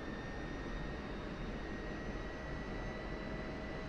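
An F-16C Viper jet engine in the DCS flight simulator runs up above idle, a steady, loud, broadband roar with a thin whine layered over it and no speech.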